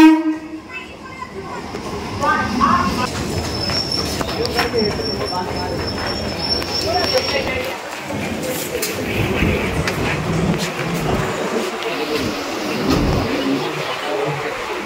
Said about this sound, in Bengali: আমাদের ট্রেন হচ্ছে হাসনাবাদ লোকাল, আর এটা গেল কিন্তু বনগাঁ